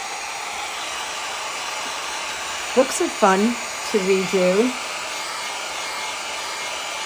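A hair dryer blows with a constant whooshing hum throughout, drying paint on an old book, while a person speaks briefly over it partway through.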